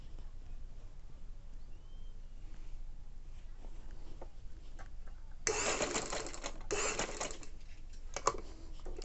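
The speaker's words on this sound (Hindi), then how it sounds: "टांके को यहाँ अच्छे तरीके से पक्का कर दें।" Sewing machine stitching a fabric strip onto a young girl's top, a quiet start then a louder burst of rapid mechanical stitching around the middle, pausing briefly before running again.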